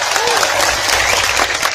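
Brief, loud burst of audience applause at an Islamic religious lecture in Indonesia, dense clapping from a close crowd lasting under two seconds.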